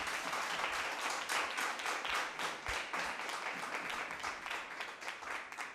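Round of applause from the audience at a national schools debate between Machakos School and Utumishi Boys Academy junior teams as results are announced, steady clapping that swells and eases over several seconds.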